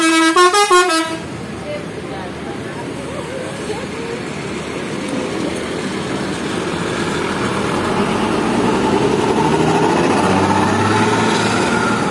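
A PO Haryanto bus pulls away in Bekasi Timur. A short horn blast opens, then a steady engine rumble builds as it accelerates, with voices talking over it.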